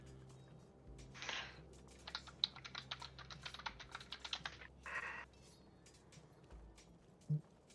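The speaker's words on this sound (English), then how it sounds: "Do you guys sometimes feel like Nick leaves his bouncy, loud keyboard on so it seems like he's thinking" A loud, bouncy mechanical computer keyboard clatters in a quick burst of keystrokes, close and distinct, with a couple of heavier thumps like the spacebar or enter key, no talking over it.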